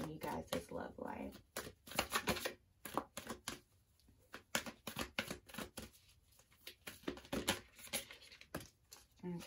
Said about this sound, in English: shuffle through the moonology cards